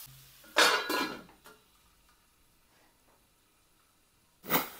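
A spoon stirs soyabean chunks, potatoes and onion in oil in a pan, giving a few close scraping and clinking strokes in a short burst. A quiet pause follows, then one more scrape at the end.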